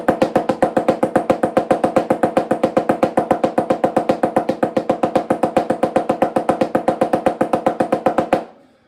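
Even drum stick strokes from a Stick Control exercise, a fast, steady stream of evenly spaced, equally loud hits played close up for about eight seconds, then stopping; no talking.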